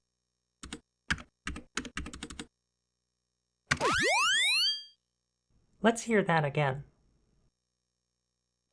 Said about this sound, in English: let's hear what ring modulation actually sounds like